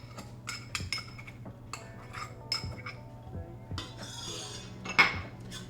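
A spoon stirs panko breadcrumbs, ground slightly finer, into a vegan crab cake mixture. Close, irregular clinks and taps against the bowl mix with soft scraping, and nobody speaks.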